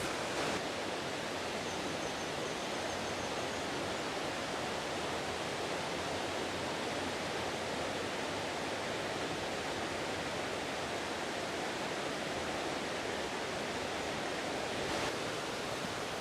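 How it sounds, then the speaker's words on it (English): Steady wind buffets the microphone outdoors among rustling trees, a constant broadband rush that stays at an even level throughout without any talking. "It is quite windy here and rustling through the trees"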